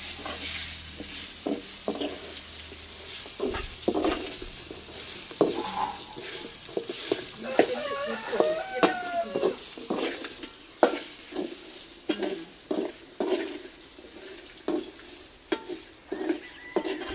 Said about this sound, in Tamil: அதனால எண்ணெயில் சத்த நேரம் வறுபடணும்